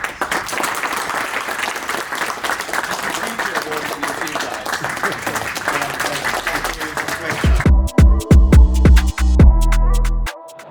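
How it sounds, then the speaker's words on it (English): Applause from an audience at a property investment speaking event fills most of the clip as dense, steady clapping, then thins into a few loud, close individual claps with a hum underneath. "Can we give a round of applause to Ranjan first?"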